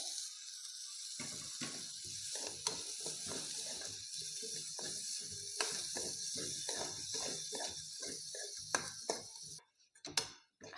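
Boiled peas are roasted in a pan for kachori filling, a steady soft sizzle with repeated clicking scrapes of a spoon stirring against the pan, close and moderately quiet, ending with a few louder knocks.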